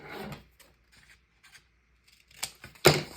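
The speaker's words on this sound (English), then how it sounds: "I am going to cut the corners of these so" Close, crisp scissor snips trim the corners of scrapbook paper to shape it like a tag, a few isolated cuts separated by quiet pauses, with the loudest snip at the end.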